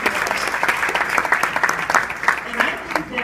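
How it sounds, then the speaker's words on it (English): Applause from a crowd at a Hispanic chamber of commerce regional gala, dense sustained clapping throughout with faint voices underneath. "give yourself a round of applause"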